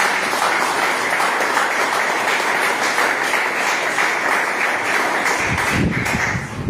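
A church congregation claps hands in praise during an evangelical sermon, loud, dense and continuous applause filling the room, with a low rumble rising near the end.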